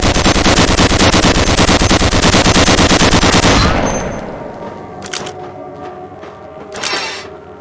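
Weapon in the game Gunman Chronicles fired until it overheats, a loud rapid automatic stream of shots that cuts out after about four seconds, followed by a few quieter mechanical clanks and a hiss.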